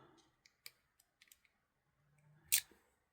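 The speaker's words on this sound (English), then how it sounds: "And then I'm going to use my nippers and cut off the excess." Wire nippers trim excess wire from a handmade beaded tassel: a few faint clicks and handling taps, then one sharp, loud snip near the end, with no talking.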